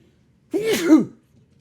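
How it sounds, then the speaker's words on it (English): One sharp sneeze bursts out close to the microphone, brief and loud against near silence. "So I knew I had to sneeze"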